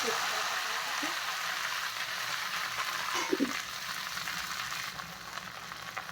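Chopped okra frying in a pan with whole cloves, cardamom, bay leaf and dried chilli, a constant bright sizzle with occasional stirring scrapes and small pops.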